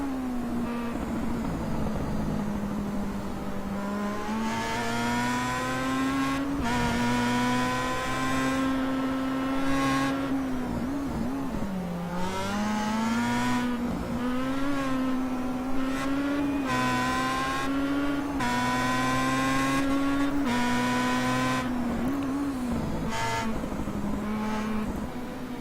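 Several race cars roar around a track, their engines holding a loud, sustained rising and falling pitch as they pass close by, with no voices over them.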